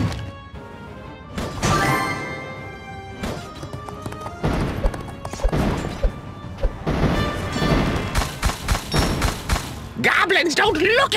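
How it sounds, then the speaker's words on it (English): Explosions in the Kingdom Rush Vengeance tower defense game, with repeated loud crashes and thuds over busy battle sounds and music, while a voice speaks briefly. "Explosions!"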